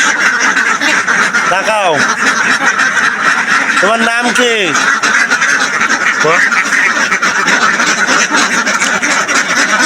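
Ducks quack in repeated bursts close by, with clear calls around two, four and six seconds while being fed a grain feed mix that includes maize, over steady farmyard noise as people talk.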